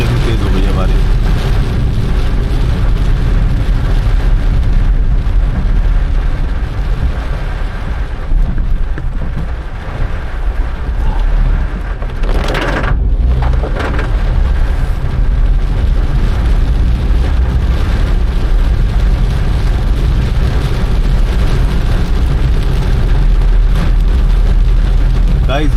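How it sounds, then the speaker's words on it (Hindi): A dense, loud roar of heavy rain pours continuously, with wind buffeting the microphone and a brief sharp rush partway through. "अभी देखो कितनी तेज़ हो गई है बारिश।"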